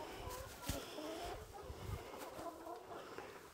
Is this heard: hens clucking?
yes